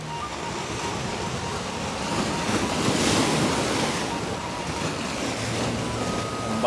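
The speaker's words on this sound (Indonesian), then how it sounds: "Ombaknya gede." Big ocean waves wash steadily onto a beach at Binuangen, with constant surf roar swelling louder around the middle, mixed with wind buffeting the microphone and no talk.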